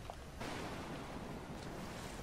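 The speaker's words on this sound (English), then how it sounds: "These are some waves." Ocean waves in a survival video game wash in with a steady, broad rushing surf, moderately loud and unbroken across a short stretch, without any voices.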